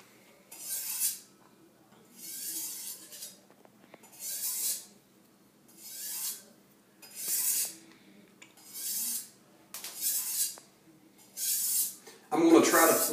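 Knife blade drawn in regular strokes across the fine side of a DMT Diafold diamond sharpening stone, about eight evenly spaced rasping swipes, close and clear with quiet pauses between.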